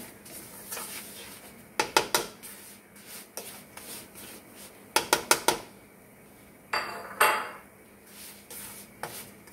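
A spoon scrapes and knocks against a pan while semolina is stirred in ghee for halwa, with clusters of sharp metallic clinks separated by quiet stretches of soft rubbing.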